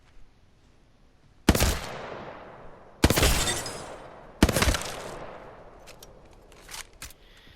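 Three loud, evenly spaced heavy-ammo gunshots ring out in Apex Legends, each a sharp crack trailing into a long decaying echo, with faint clinks after the last.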